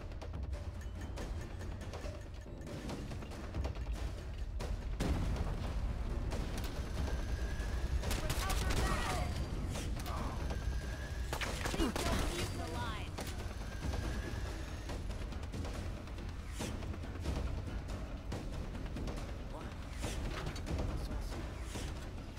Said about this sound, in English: Taking pot shots out there.